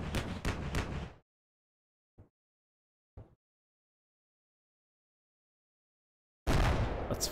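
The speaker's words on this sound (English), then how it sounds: "Bradley is still shooting up this tree line." In the Combat Mission Black Sea war game, a Bradley fighting vehicle fires on a tree line: a dense burst of heavy gunfire, then two short isolated shots over silence, and another loud sustained volley at the close.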